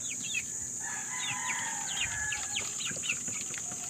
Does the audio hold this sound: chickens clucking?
yes